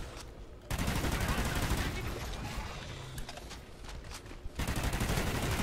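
Rapid submachine-gun fire from Call of Duty: Ghosts Extinction, dense sustained bursts of close, loud gunshots that carry on for several seconds with a brief pause near the start and another near the end.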